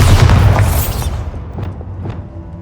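A Bombarda blasting spell detonates in Hogwarts Legacy: a loud, deep boom with a crackling burst that fades over about a second, followed by a couple of fainter debris thuds.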